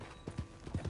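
Horse hooves clip-clop in Red Dead Redemption 2, a quick run of about five close, soft thuds in an uneven trotting rhythm over one second.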